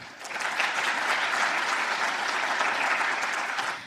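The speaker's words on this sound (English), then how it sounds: "let's give a big round of applause once again." A seminar audience claps in sustained applause, rising quickly, holding steady and dense for a few seconds, then tapering off at the end.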